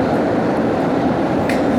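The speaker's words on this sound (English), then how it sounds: "There goes the ghost train." A train rushes loudly past at a station, a steady close roar of rail noise with faint rattling, no voices.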